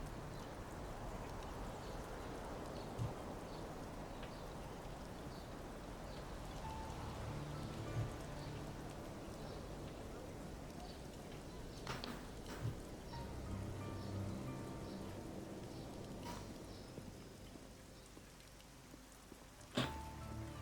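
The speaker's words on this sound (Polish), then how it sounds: "Pada jak chuj." Heavy rain falls steadily in the Black Mirror II game, a dense continuous hiss with a few soft knocks and distant thuds throughout.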